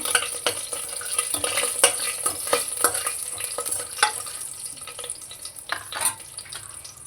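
Cinnamon, cloves and cardamom sizzle in a pan over a low flame as the base for ghee rice. A steady soft frying hiss runs throughout, broken by frequent sharp clicks and scrapes of stirring, close by and without talk.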